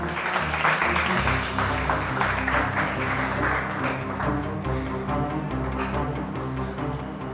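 A classroom of students claps together to welcome a new classmate, a dense, sustained patter of applause at moderate volume.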